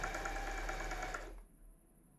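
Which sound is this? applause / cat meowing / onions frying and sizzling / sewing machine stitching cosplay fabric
sewing machine stitching cosplay fabric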